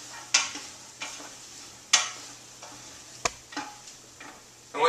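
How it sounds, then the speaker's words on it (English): Zucchini tipped into a pot of sizzling vegetables for a gluten-free vegetable soup, followed by a utensil stirring, with several sharp scraping clatters spaced over a steady low frying hiss, close and moderately loud. "So next I'm going to add in my zucchini."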